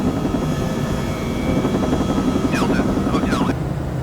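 Helicopter flying in Microsoft Flight Simulator 2020 with the FSRealistic add-on, a steady loud rotor and engine drone running throughout, with brief electronic chirps and radio-like tones near the end.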